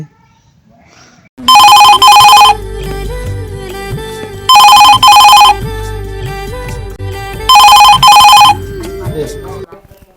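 A telephone ringtone sounds in three loud, evenly spaced bursts, each a rapid warbling double ring, with steady background music and tones playing between the rings.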